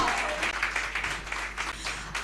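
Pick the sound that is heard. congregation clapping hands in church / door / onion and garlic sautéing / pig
congregation clapping hands in church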